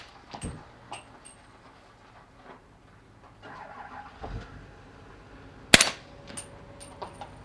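A suppressed 300 Blackout rifle firing 220-grain rounds over a chronograph: one sharp, loud, near report late on, with a few softer thuds and clanks earlier against a quiet background.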